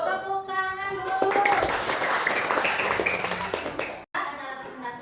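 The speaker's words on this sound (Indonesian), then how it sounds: "Tepuk tangan dulu." A class group claps together for several seconds after a presentation, a dense patter of hands with voices talking over it, ending in a brief pause before talk resumes.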